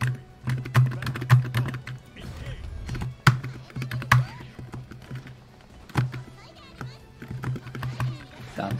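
Rapid computer keyboard keys clatter in bursts during a Granblue Fantasy Versus fighting game match, with sharp taps over game sounds and a person talking.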